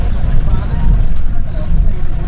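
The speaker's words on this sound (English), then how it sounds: "just aboard the number 10 bus to Newcastle city centre and the bus is very loud" Loud engine rumble and road noise fill a crowded number 10 city bus running from Gateshead's Metro Centre toward Newcastle city centre, a steady low drone with passengers' babble mixed in throughout.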